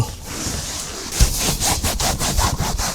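A microfiber towel is pushed hard across a shampooed car seat, giving rhythmic, close scrubbing strokes of rough fabric friction, about two per second, with no talk.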